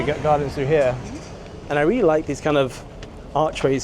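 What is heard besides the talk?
No distinct noise like a dog, phone or traffic.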